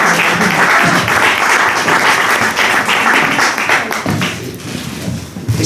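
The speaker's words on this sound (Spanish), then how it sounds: "un fuerte aplauso para Miguel Hermoso y María González" An audience at a book presentation in a cultural centre applauds loudly, a dense sustained clapping that tapers off toward the end, with a faint voice near the close.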